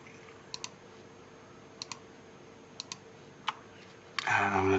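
A computer mouse clicks while working in Lightwave 3D: several soft, paired clicks spaced about a second apart over a low steady hum, then a brief burst of voice at the end.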